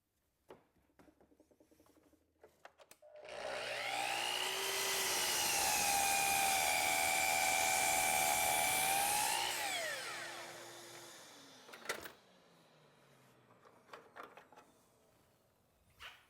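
A miter saw spins up to a high whining motor tone, cuts through a piece of wood for several seconds, then winds down, followed by a few light knocks and handling sounds.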